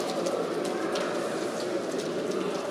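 Sport pigeons at a pigeon show in Wrocław cooing continuously, a dense low murmur of many birds amid hall background noise.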